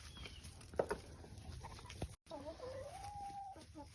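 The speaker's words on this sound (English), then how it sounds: "Look, chickens are so confused." Chickens on a farm animal sanctuary clucking near and fairly faint, a few short clucks followed by a longer drawn-out cackle, over low background rumble and a brief dropout.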